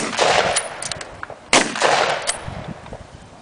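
A WWII-era bolt-action rifle fires live rounds at a living history event, two sharp loud shots about a second and a half apart, each ringing out briefly.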